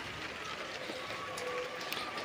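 Steady rain patters and hisses evenly throughout, with a few sharper drips standing out.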